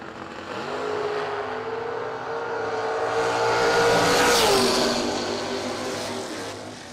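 Mustang drag racing car launching down the strip, its engine rising from a steady rumble into a loud, climbing roar that peaks and passes, then fades back toward a lower drone.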